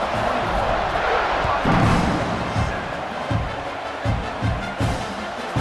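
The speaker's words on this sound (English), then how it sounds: "this crowd is buzzing after that last score" Stadium crowd in EA Sports College Football 26 buzzing after a touchdown, a steady dense roar of many voices with occasional thuds and swells, loud and continuous throughout, with commentary voices faintly underneath.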